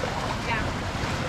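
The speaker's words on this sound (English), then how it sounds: "There's been some big waves coming over onto the boat." Ocean surf washes against a boat off Palawan in the Philippines, a loud, dense roar of water and wind buffeting close to the microphone.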